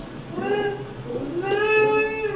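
Young beaver kits vocalize to each other in a wild setting: high, whiny, harmonic squeals in two drawn-out bursts over a steady background hiss, fairly close.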